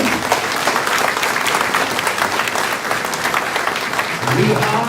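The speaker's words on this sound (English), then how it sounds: "Another round of applause" An audience at a school fine arts concert applauds in a dense, steady wash of clapping that fills the room continuously from start to finish, with crowd voices mixed in and a slight swell near the end.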